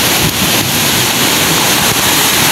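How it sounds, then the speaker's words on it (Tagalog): Rough sea waves pounding the shore during a typhoon, a loud continuous roar of surf mixed with heavy wind buffeting the microphone, with no break throughout. "Grabe ng alon"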